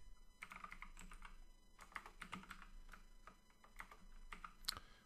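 Steady typing on a computer keyboard in short clustered bursts of clicks, close and quiet, with no talking.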